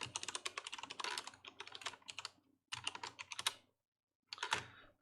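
Rapid keystrokes on a computer keyboard typing a command in bursts of quick clicks, separated by short pauses, close and fairly soft with no voices.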